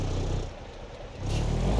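A simulated old Peterbilt truck engine in the BeamNG.drive video game rumbles and revs, a loud, gritty, low drone that dips briefly, then swells again into a heavier rev, with no talking.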